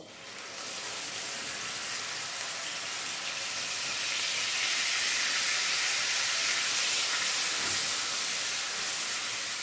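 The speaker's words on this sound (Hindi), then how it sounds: "और उसके बाद इसमें जाएगा टमाटर और प्याज का पेस्ट। ऑयल गर्म हो चुका है, ये डाल देंगे तकरीबन हाफ कप।" About half a cup of tomato and onion paste goes into hot oil and sizzles loudly. The steady, dense hiss continues without pause for the whole stretch, with no talking over it.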